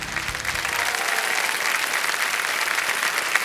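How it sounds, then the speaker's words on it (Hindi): Studio audience applause on the TV quiz show Kaun Banega Crorepati, a dense, even roar of clapping that holds steady and fairly loud for a few seconds, with no one talking. "तालियां बज जाएं इनके लिए।"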